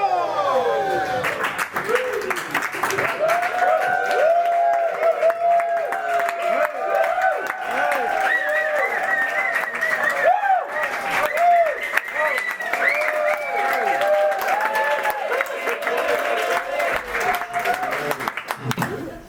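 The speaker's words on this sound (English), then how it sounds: "Give me a cheer" A comedy audience cheers and claps at a stand-up show in Amsterdam, with long shouts and whoops riding over steady applause that holds loud for the whole stretch.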